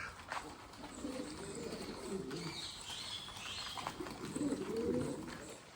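Pigeons kept in a cage coo in repeated low, throaty phrases, some softer and some louder toward the end, along with faint chirps and a little background noise, close by.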